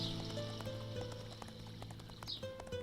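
Horse hooves clip-clop in the video game Chimeraland, a quick steady patter of hoof strikes over layered game music and ambience, close and fairly prominent.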